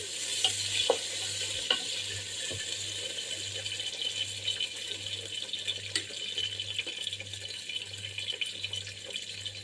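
Tomatoes frying and being stirred in a pan, a faint steady sizzle with light scattered clicks of stirring over a low repeating hum.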